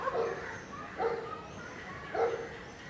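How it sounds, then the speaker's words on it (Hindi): A pet dog named Tony barks at a house in Goa: three separate, fairly loud yelping barks spaced about a second apart, heard alone over a quiet background. "ये टॉनी भौंक रहा है"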